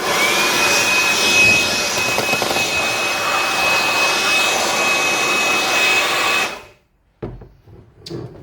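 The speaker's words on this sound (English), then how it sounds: "Now that's quite a powerful blower for especially in a small compact size like this." A Craftsman V20 compact cordless blower runs at a steady, loud whooshing roar with a faint high whine for about six seconds, then cuts off abruptly, leaving a few soft handling knocks.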